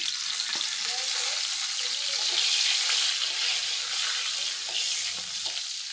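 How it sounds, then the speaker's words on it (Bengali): Dried red chillies frying in a little oil, a steady close hiss and sizzle throughout with occasional faint stirring clicks, no voice over it. "এখন শুকনো মরিচটি ভাজে নিব"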